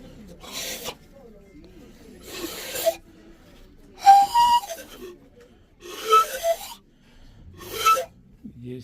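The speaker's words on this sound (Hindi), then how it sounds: "ये इस तरह बजाते थे सीटी।" Old traditional whistle blown in five separate bursts, each a breathy, rasping toot with a faint pitched tone, fairly close and alone, with quiet pauses between.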